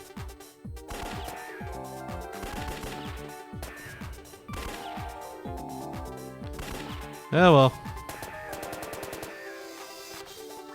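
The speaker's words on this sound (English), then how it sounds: "I don't want to hear the gunshots over and over again" Gunshot sound effects from the puzzle game Picross DS, heard as a string of sharp, repeated cracks over background game music, with one louder burst near the end and a voice speaking briefly.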